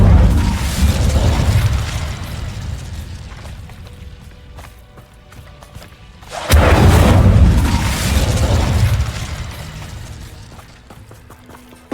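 In the game Hogwarts Legacy, the Incendio fire spell is cast with a deep booming burst, followed by rumbling combat noise and a second heavy whoosh-like blast partway through.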